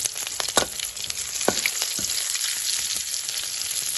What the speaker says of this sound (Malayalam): അതിങ്ങനെ വഴക്കിയെടുക്കണം നന്നായിട്ട് വഴക്കിയെടുക്കണം കരിഞ്ഞു പോകാതെ നോക്കണം